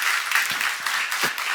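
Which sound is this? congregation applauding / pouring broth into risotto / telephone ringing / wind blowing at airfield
congregation applauding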